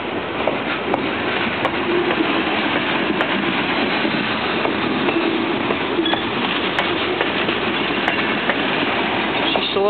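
A Norfolk Southern freight train with flat cars rolls past close by, producing a continuous loud rumble with rhythmic clickety-clack of wheels over rail joints and occasional faint squeals.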